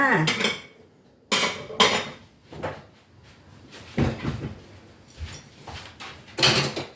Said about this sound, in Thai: เรามาตักใส่จานกันเนาะ อืม ผัดขิงหมูนะคะนี่